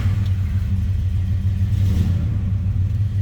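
A 1964 Dodge Dart GT convertible engine runs steadily after starting, a loud, continuous low rumble holding close by with slight surges, no voices over it.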